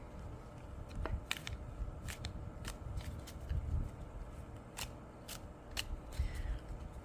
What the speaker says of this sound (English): I shuffle upside down, top and bottom